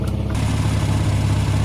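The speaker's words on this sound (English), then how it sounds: "It seems to be running really lovely and idling great now it's warmed up." A warmed-up Austin Maestro barn-find car idling steadily, a loud, close, continuous engine drone with an even low rumble and no voices.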